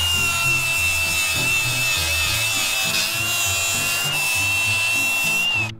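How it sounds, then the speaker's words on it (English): A handheld power tool grinds metal in a workshop, a steady high-pitched whine running loud and continuous for several seconds alone before cutting off abruptly. "I have to tear it all back apart and grind it"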